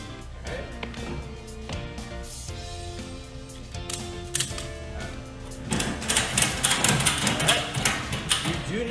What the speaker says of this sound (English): make sure the ratchet is facing out, so that way you can secure it